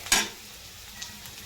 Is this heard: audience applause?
no